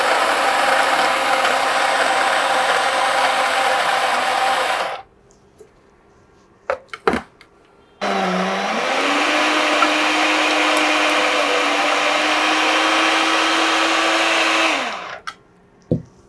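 An electric grinder jar whirs loudly while grinding spices into powder, running in two long bursts separated by a pause with a few clicks, the second burst carrying a steady motor whine that drops off at the end.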